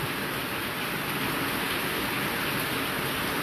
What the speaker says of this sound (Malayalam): മഴ പെയ്യുന്നുണ്ടല്ലേ, ശബ്ദം കേൾക്കുന്നുണ്ടോ?